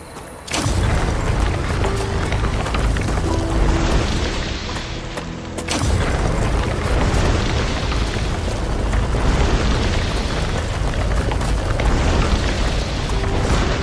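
Meteors crash down after a deadly fire wave from the Rupture star in the video game Star Rupture: a dense, loud, continuous rumble of booms and explosive bursts that barely lets up.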